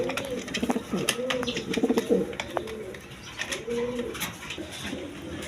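Large Gopalganj pigeons give a series of close, throaty coos in rhythmic bursts, with scattered clicks and light background noise around them.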